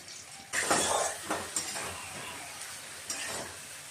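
Spice paste with green chillies, turmeric, salt and coriander powder being sautéed for fish head curry: a soft sizzle in the pan with a few scraping strokes of a spatula, close and moderately quiet, no talking.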